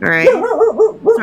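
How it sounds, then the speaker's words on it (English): A pet dog named Zena gives a short series of high, yelping barks close by, with a person talking over it. "that's my dog."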